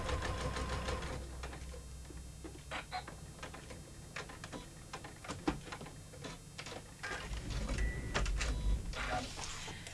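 A sewing machine stitching along a seam sewn with wash-away thread, close and busy, with rapid mechanical clatter, whirring runs and short stops, and a heavier motor drone toward the end.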